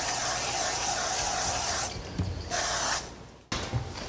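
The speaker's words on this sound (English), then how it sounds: "I like to use the olive oil spray" Olive oil cooking spray hisses in close, loud bursts over squash slices, with two long sprays, a brief pause, then a shorter final burst.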